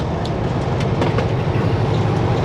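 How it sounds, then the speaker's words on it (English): A CN train rolls along the tracks near a narrow road up to Adams Lake, making a loud, continuous rumble with a dense rattling texture and no let-up across the whole moment. "there's a CN train up there"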